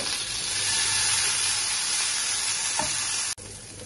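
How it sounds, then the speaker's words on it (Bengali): Boiled yardlong beans fry in a little oil in a pan, giving a steady, close, broadband sizzle that holds level for a few seconds and then cuts off abruptly near the end. "সিদ্ধ করা বরবটিগুলো তেলে দেব।"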